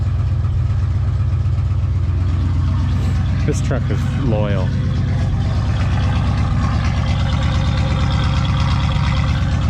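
Loud, steady low rumble of a 1978 Chevrolet C10 square-body pickup idling nearby after a cold start; someone speaks briefly over the engine.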